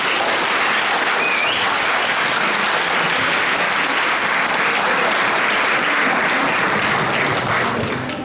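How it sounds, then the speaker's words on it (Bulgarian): Sustained applause from a theatre audience fills the room, dense and steady for the whole stretch, with no talking over it. "Аплодисменти!"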